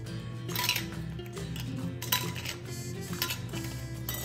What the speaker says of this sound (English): put these lids inside each of the rings